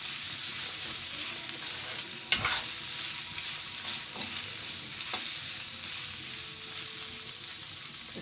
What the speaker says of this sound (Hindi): इसको हमें स्लो फ्लेम पे धीरे धीरे फ्राई करना है, इससे आंवला हमारा सॉफ्ट भी हो जाता है